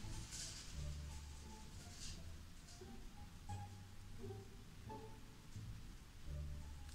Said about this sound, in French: on va attendre que la tempête se passe, parce que là, c'est juste pas possible